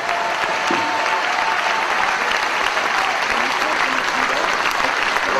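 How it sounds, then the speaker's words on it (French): Audience applause at a departmental political rally meeting in Bazas, France, with a large crowd clapping steadily and loudly throughout, a thick continuous wash of claps. "Merci d'applaudir Jean Lassalle."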